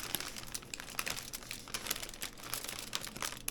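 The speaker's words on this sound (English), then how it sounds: "I'm going to cut into this package" Plastic food packaging of cheese bread crinkles and crackles in quick, irregular bursts as it is cut open, a close but fairly quiet sound with no talking.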